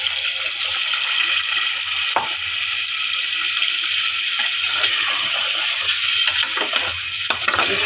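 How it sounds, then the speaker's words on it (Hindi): Half a cup of water goes into an egg potato curry in a hot pan, giving a continuous sizzling hiss with stirring clatter and a few sharp knocks. "अब इसमें आधा कप में पानी ऐड कर दूँ।"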